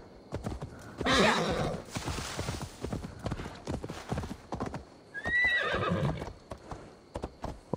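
A horse in Assassin's Creed Valhalla snorts and gives a sharp neigh, with clip-clopping hooves in an uneven rhythm all the way through and a second whinny partway along, moderately loud and close.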